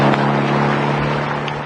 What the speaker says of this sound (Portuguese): Ligou o motor e arrancou rispidamente.